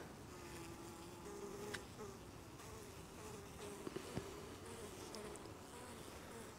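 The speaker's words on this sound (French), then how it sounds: "On ouvre la ruche. Voilà, donc là il y a beaucoup d'abeilles, c'est une belle colonie ça." Honey bees buzz steadily in an opened hive of a strong, full colony during an oxalic acid treatment, a dense continuous hum close to the frames with a few faint clicks and knocks.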